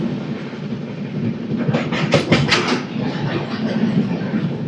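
The Andhra Pradesh Superfast Express, train 20805 from Visakhapatnam to New Delhi, runs through Kovvur station without stopping, with a steady rumble and a burst of rhythmic clickety-clack wheel beats over rail joints, loud and close.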